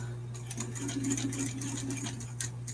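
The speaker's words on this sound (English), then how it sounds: "I'm gonna back stitch over this ribbon" A sewing machine back stitches over ribbon while making lanyard ID holders, a steady close mechanical whirr with rapid needle ticking that runs continuously throughout, with no talking.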